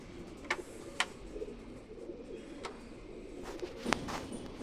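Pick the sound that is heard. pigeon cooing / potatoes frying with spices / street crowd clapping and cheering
pigeon cooing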